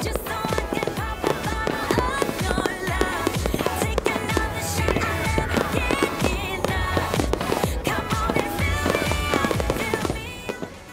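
Rapid, dense bursts of booming and crackling fireworks over the Darwin skyline on Territory Day, overlapping continuously, loud and sustained with sharp transients throughout.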